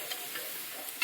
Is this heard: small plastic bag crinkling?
no